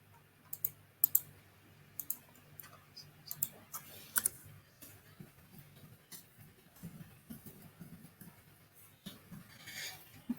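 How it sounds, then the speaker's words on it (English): Someone types a question on a computer keyboard during an online session, with quiet, irregular key clicks spread across the clip and a faint low hum underneath. "Yeah, I'm typing the question"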